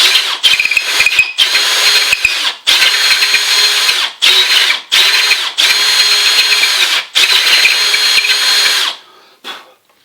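A power drill with a 10mm brad point bit, boring into old stage floorboard wood, whines loudly in repeated bursts, stopping and starting about eight times before trailing off, with no talking.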